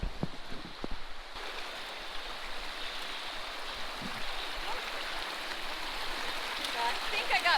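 Water rushing through a gold sluice set up at a stream, a steady close splashing wash. A few knocks and clatters come early on, and the flow grows slightly louder toward the end.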